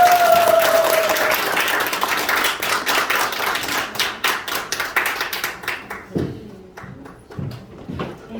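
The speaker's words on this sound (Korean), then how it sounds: "박수 부탁드립니다." Audience claps for the company head taking the stage at a customer invitation day, dense applause at first that thins into scattered individual claps and fades toward the end.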